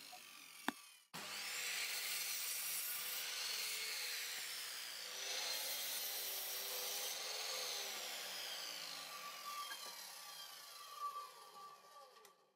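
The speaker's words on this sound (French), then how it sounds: "Je réaliserai dans cette vidéo toutes les coupes avec une scie à onglet" A miter saw whines steadily through reclaimed wood for several seconds after a sharp click, then spins down at the end.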